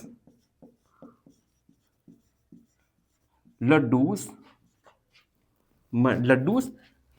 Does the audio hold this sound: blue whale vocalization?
no